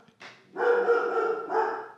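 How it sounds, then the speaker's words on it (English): A pet dog barks indoors: one short yip, then a long sustained bark-howl and a final shorter bark, close and loud with nobody speaking. "This is the culprit of the barking."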